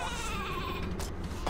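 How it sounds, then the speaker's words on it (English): A wavering, nasal sheep bleat from the Worms WMD artillery game, rising over a busy game soundtrack and fading after about a second. "Every sheep I've ever launched has gone the wrong way."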